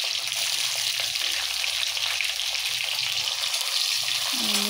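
Onions tossed into hot oil with mint, dried red chillies and green chillies sizzle in a pan for a fish curry, a steady close hiss that holds without a break.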